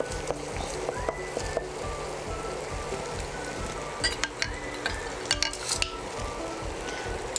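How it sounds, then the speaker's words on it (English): Onions fry on medium heat in a pan for black pepper chicken curry, a steady crackling sizzle with repeated scraping and clinking of a utensil against the pan bottom, close and continuous throughout. "fry the onions only on medium heat and always keep scraping the pan"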